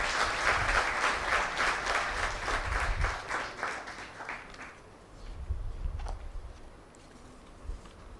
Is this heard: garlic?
no